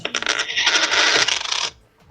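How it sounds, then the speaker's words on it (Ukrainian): A coin drops in the horror video game Doors, giving a bright, loud metallic jingle and clatter that rings for well over a second before cutting off, with no talk over it. "в тебе чё там монетка упала?"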